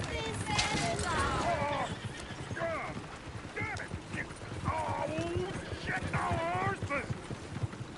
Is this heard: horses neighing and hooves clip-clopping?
yes